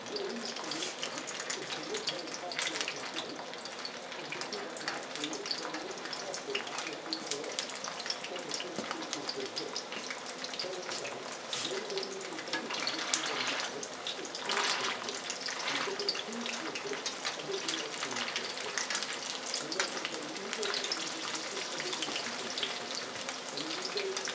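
Eel cakes fry four at a time in a very thin pan of oil, giving a steady, moderate crackle and hiss that runs evenly throughout with no talking.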